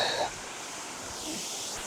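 A waterfall at the base of the falls at Cowley County State Lake gives off a steady, fairly faint broadband rush, with a brief louder bump at the start and no talking.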